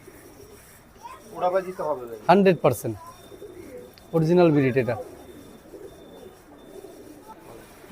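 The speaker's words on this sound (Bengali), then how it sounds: "অডিয়েন্স এখন যে তিনটা কবুতর দেখতেছেন এখানে" Pakistani Teddy breed pigeons coo in low, throaty rolling bursts close by, two clear bouts separated by a pause, while someone talks over them.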